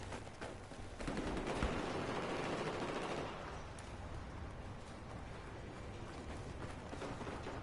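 L85 assault rifle fire in Battlefield 4, a fast burst of rattling shots roughly one to three seconds in, with muffled distant combat and movement continuing after, no voices.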